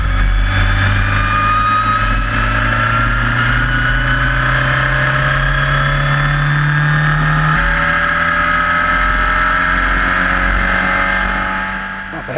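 A Formula Ford race car at Donington, its engine stuck in fourth gear and short on performance, drones loudly and steadily throughout with a continuous engine tone that rises slightly, heard close up with no speech.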